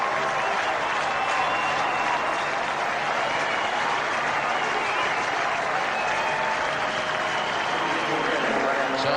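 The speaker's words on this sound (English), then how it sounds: "the big crowd here at McLean Park are giving him a well-deserved hand-off." A big cricket crowd at McLean Park applauds a batsman after a 90-run one-day innings against India in 1994, steady dense clapping and crowd noise throughout, with a commentator talking over it.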